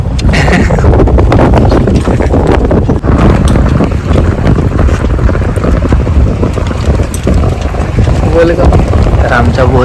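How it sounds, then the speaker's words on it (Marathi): Riding aboard a large launch boat on open water, with steady loud wind buffeting the microphone and engine and water rush underneath; people talk faintly in the background. "ह्या बोट मध्ये त्या मोठ्या लॉन्च मध्ये बसले"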